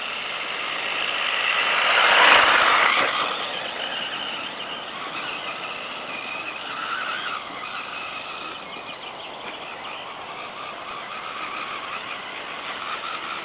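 WLToys L303 mid-motor two-wheel-drive RC buggy running on wet grass, its electric motor giving a steady high whine that swells loudly near the start, then settles into a continuous buzz with no talking.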